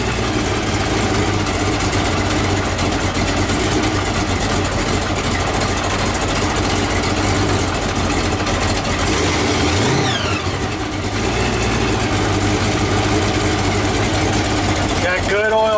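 A supercharged 454 engine idles loudly and steadily in cold weather of about 20 degrees, a close, continuous rumble with a faint whine, while people talk over it.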